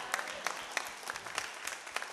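Church congregation applauds in praise of Jesus during a bilingual sermon, with sharp irregular claps spread through a steady, moderate round of clapping that carries across the whole stretch.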